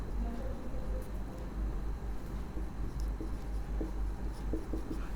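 Marker or chalk strokes on a board while a chemical equation is balanced: faint, scratchy writing sounds in short strokes over a steady low hum, with no voices.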